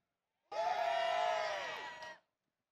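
A crowd at a Them's Fighting Herds fighting game tournament at Combo Breaker 2023 lets out one loud burst of cheering and whooping. It starts abruptly, lasts under two seconds, then cuts off.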